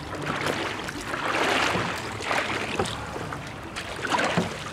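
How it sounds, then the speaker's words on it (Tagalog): A motorless boat is paddled out at sea, with rhythmic splashes and swishes of water against a steady wash of wind and waves, and no talking. "Henner decides to paddle further out to sea"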